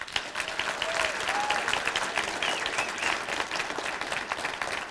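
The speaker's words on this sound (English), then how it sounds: "Please give a round of applause, the warmest round of applause to our wonderful," A large audience at a college state-of-the-college address breaks into sustained, dense applause for the faculty, steady and even throughout with no voices over it.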